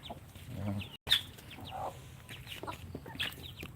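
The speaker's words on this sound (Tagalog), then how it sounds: "native chicken" Native chickens cluck faintly in a quiet farmyard, with scattered short calls and a brief sharp squawk, low and somewhat distant.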